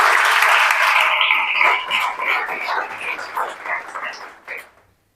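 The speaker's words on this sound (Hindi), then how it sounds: "तो जोरदार ताली बजा दीजिए इनके लिए।" A classroom audience claps loudly for a student who scored top marks in a board exam, dense applause at first that thins into scattered claps and fades out after a few seconds.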